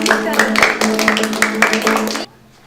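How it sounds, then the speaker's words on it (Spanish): Sharp claps land in a steady rhythm, roughly one every half second, over a sustained tonal sound like singing voices. It is loud and near, then stops abruptly just before the end. "Un aplauso porque cantan muy bonito."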